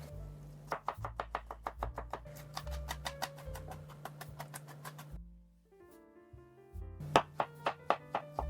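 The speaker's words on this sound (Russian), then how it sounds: "Также средними кусочками порежу 2 зубчика чеснока." A knife chops garlic cloves on a cutting board for a mushroom and chicken pearl barley dish, with rapid evenly spaced close strikes in two bursts separated by a brief pause of quieter handling.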